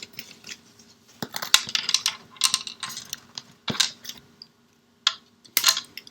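A die cuts a card shape for a bridge card. Crisp, irregular clicks and snips come close and fairly quiet, with short pauses between bursts.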